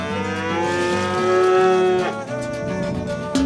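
A cow on a village farm moos in one long, loud, close call that swells in the middle and fades out, with no talking.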